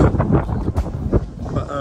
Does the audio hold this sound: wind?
yes